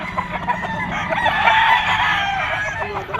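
At a Friday pet market in Bocaue, Bulacan, a straight-combed, yellow-legged rooster gives one loud, close crow lasting a few seconds against a busy market background.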